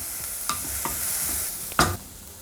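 Onions sautéing and being stirred in a pan, a steady low sizzle with a few sharp scraping strokes of the spoon against the metal, close and alone.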